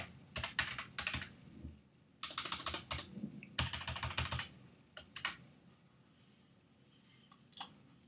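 Fingers type in quick bursts on a computer keyboard while entering HTML and CSS code, with close, crisp key clatter separated by short pauses and a few isolated keystrokes toward the end.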